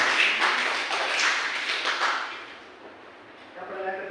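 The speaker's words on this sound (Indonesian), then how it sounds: "Boleh tepuk tangan dulu ke Anissa." Classroom applause for a student named Anissa, a brief burst of clapping from a group of pupils that swells and then fades out, followed by a moment of quiet before a voice starts.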